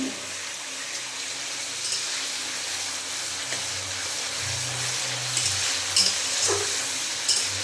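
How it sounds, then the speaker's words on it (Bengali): Patol and soybean vegetable curry cooking in a pan on a gas stove, with a steady close sizzling hiss and occasional louder crackles and bubbling, with no talking. "খিচুড়িটা বাইরে হচ্ছে আর আমি গ্যাসে তরকারিটা রান্না করছি"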